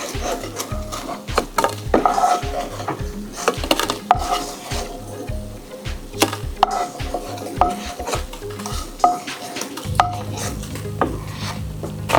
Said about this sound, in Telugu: ఇట్లా మిగిలిన పీసెస్ కూడా ఫ్రై చేసి పెట్టేసుకుందాం కదా బ్రెడ్ పీసెస్ అన్ని